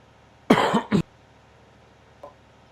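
A streamer coughs in one short harsh burst of two or three coughs, close to the mic, followed by a faint small throat sound and then quiet.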